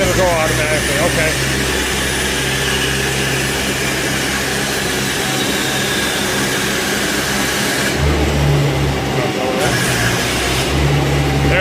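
A 2014 Tennant S30 floor sweeper idles with a steady mechanical drone and hum while its hopper lifts, with shifts in the engine tone near the end and people talking over it.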